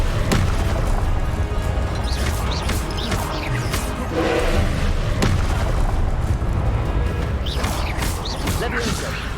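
Spell effects in Hogwarts Legacy, with the Incendio fire spell among them: loud whooshing bursts and booming crackles rolling over a constant rumbling game soundscape, with sharp impacts near the start, middle and end.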